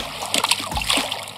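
A heavy rock dropped into outdoor water lands with a close splash, followed by brief sloshing and trickling as the water settles.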